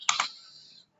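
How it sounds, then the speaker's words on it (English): A pair of quick computer keyboard clicks close by, then a brief fading tail and silence. "It's my keyboard."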